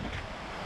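Strong gusty wind blowing at about 33 metres per second in Latvia during extreme weather, a loud, steady broadband roar with buffeting against the microphone, no voices.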